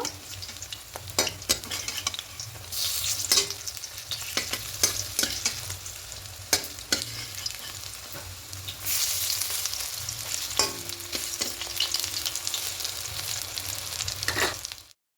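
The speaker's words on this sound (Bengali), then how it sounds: "বড়াগুলো সব ভাজা হয়ে গেছে" Lentil fritters (bora) frying in a pan of hot oil, a steady close sizzle with bursts of louder crackling and occasional clinks of a utensil against the pan, no talking.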